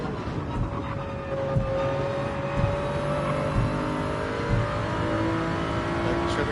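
A Toyota GR3 Supra race car in a racing video game drones steadily at high revs through a corner at Tokyo South, the engine note shifting slightly and the sound loud and continuous.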